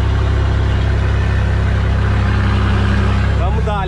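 A loaded Scania truck carrying onions pulls away, its engine droning loud and steady with a deep low rumble throughout, close by, with a brief rising whine near the end.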